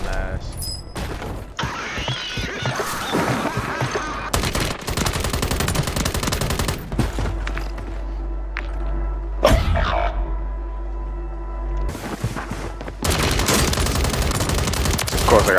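Gunfire in the video game Warzone 3, repeated bursts of automatic fire and single shots, loud and close, broken by brief quieter gaps, with a player talking at times.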